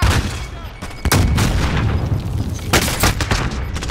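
Frag grenade blast and rapid gunfire in a multiplayer shooter video game, loud and continuous with sharp broadband bursts, heaviest near the start and again toward the end.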